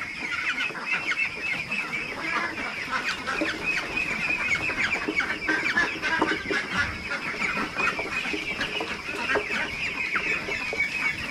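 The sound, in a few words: ducks on a duck farm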